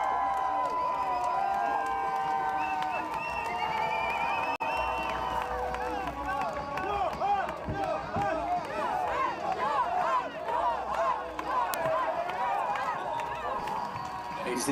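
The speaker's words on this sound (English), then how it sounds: "Big love from the crowds here." Dense crowd cheering and whooping at the Vendée Globe 2024 sailing race finish as runner-up Yoann Richomme arrives, a loud sustained roar with bursts of shouts and whistles, voices talking through it.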